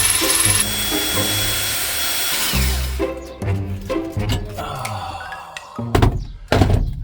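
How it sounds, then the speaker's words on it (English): Cordless drill boring bolt holes through a rear seat frame in a VW T4 van build, heard as short bursts of whirring and thunks after a loud steady tool hum at the start. "drill holes that I'm going to put the bolts through with."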